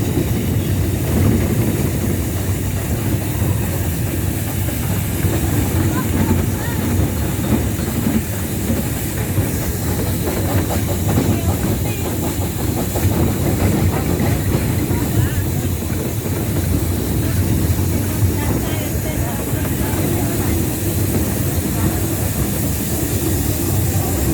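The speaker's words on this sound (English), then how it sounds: "The engine will probably start working a little bit harder." A light railway train on the Lincolnshire coast, heard from on board as the engine works harder on the run up to the end of the line: a continuous rumbling drone with rhythmic clickety-clack and some hiss, speech faintly over it.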